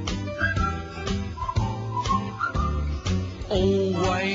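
Whistled melody from a song, a bright tuneful line carried over a full band backing of rhythmic strums and bass, loud and continuous throughout.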